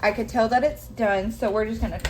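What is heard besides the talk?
No everyday noises stand out.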